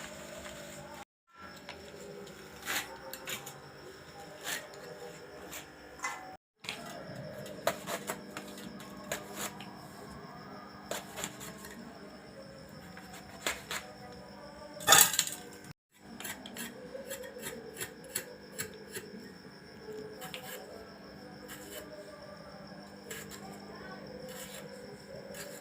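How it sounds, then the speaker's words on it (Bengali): Red amaranth greens (laal saag) are chopped with a knife in a home kitchen, giving a steady run of close, dry rasping cuts broken by brief pauses, with one louder clattering burst partway through. "প্রথমে আমি শাকগুলো কেটে নিচ্ছি।"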